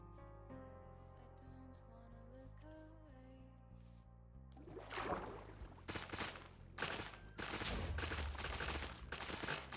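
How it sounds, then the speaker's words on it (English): Explosion in Minecraft on the Origin Realms server; after game music with steady tones, a burst of loud, sharp blasts and crackles erupts midway and repeats in several hits. "I heard an explosion."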